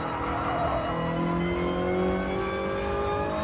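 Race car engine held at full throttle in Gran Turismo, a steady high-pitched in-game roar with harmonics climbing slowly through shifts, loud and continuous with no talk.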